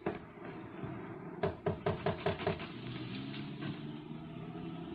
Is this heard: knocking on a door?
yes